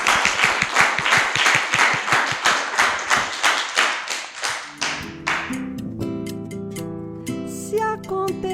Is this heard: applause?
yes